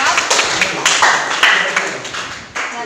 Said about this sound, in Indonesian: Beri tepuk tangan dulu anak-anak untuk presentasi dari kelompok